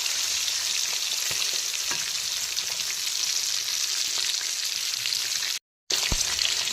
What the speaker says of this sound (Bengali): তো এখন চিকেনগুলোকে উল্টো করে দিলাম, আর চিকেনের উল্টো দিকটাকেও একইভাবে ভেজে নেব